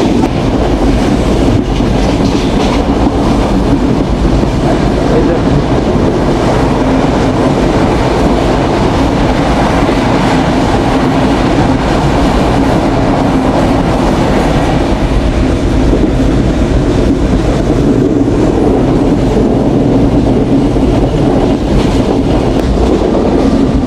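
The Banalata Express runs on rails with a continuous close, loud roar and rhythmic clickety-clack of wheels over the joints, steady throughout with no voices.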